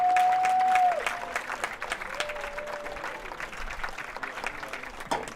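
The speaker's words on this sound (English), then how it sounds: "please give a round of applause for all of tonight's seniors" A high school crowd applauds the seniors at a 2020 senior night basketball game, steady distant clapping in a gym with a brief whistle-like tone at the start.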